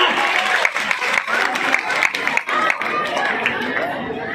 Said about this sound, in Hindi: जरा तेज तो बजाओ तालियां।